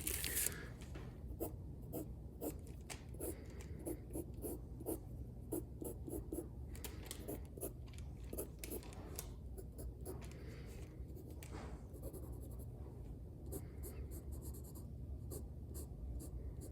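HB graphite pencil drawing hair on paper: continuous quick scratchy strokes with short rhythmic taps and scribbles, close and steady throughout, with no talk.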